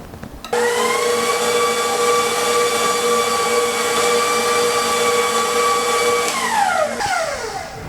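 An electric mixer whips Whip Deelite topping with a loud, steady motor whine that holds evenly for several seconds before the pitch drops as it slows.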